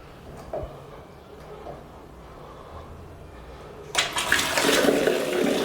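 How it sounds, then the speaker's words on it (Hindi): Water turned on through a shower mixer valve after repair, a rushing gush that starts abruptly in the latter part and keeps going loudly, following quieter handling clicks and bumps. "अब हम पानी चालू करके देखेंगे।"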